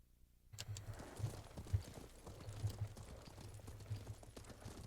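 Horse hooves gallop at a steady, rapid rhythm in the Ghost of Tsushima video game, quiet and continuous, with soft ambient game sound behind them.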